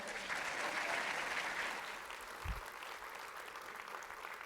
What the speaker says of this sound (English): Please give a big round of applause for our 2019 keynote speaker, Stefan Swanepoel.